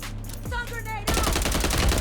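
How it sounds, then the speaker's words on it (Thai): Rapid gunfire from a Call of Duty match bursts out loud and continuous in the second half, following a quieter stretch of clicks and tones from the game. "มีคนยิงเพื่อนเรามานะ"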